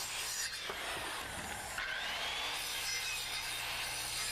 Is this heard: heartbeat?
no